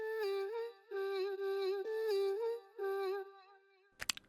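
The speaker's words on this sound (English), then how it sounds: "With no processing, it sounds like this," Dry, unprocessed vocal chop for an EDM breakdown: a clear sung tone repeated in five short phrases with small pitch bends, alone and fairly quiet, ending with a brief clicky noise.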